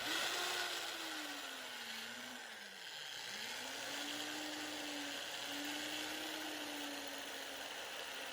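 A drill drives screws through 1/8 inch pilot holes into a wooden picnic bench, its motor whining steadily with a pitch that dips and rises as each screw bites, close and continuous.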